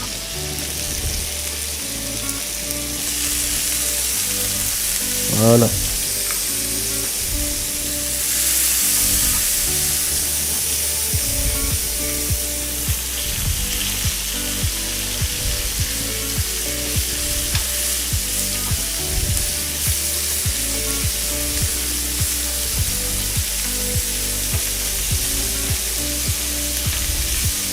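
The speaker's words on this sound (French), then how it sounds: "On le pose dessus. On va juste marquer la viande." Meat searing in a hot frying pan, a steady close sizzle that runs throughout, with brief stirring noises and a short word spoken over it.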